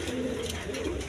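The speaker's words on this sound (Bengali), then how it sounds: "এইখানে এক পেয়ার গিরিবাজ কবুতর আছে, হাই ফ্লাইং কবুতর" A pair of Giribaz high-flying pigeons coos steadily at close range, soft throaty murmurs running throughout without pause.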